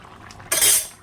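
Ghee goes into a sweet paneer curry with a sudden bright clink of a metal spoon against the pan, then a short, close-up scrape and a soft sizzle that fades away. No one speaks.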